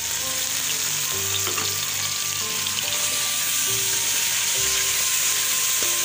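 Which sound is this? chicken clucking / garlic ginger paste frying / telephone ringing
garlic ginger paste frying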